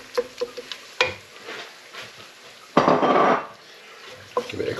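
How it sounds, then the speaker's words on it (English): A tin of tomatoes is stirred into a pasta sauce in a pan for pasta al forno, giving scattered utensil clinks and scrapes followed by a louder burst of wet stirring and bubbling, heard close up with no talk. "Give it a good mix."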